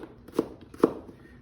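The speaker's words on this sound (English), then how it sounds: "I just cut. And I want little bitty onions." Two crisp knife strikes on a cutting board, spaced about half a second apart and heard close and alone, as onions are chopped into small pieces for a broccoli casserole.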